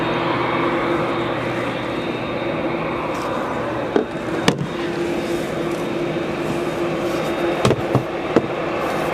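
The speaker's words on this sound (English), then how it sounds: "Air France is now going to depart." An Air France airliner, flight 153 bound for Paris, departs O'Hare airport with a steady, loud roar of jet engines throughout, plus a few sharp clicks and pops near the end; no speech.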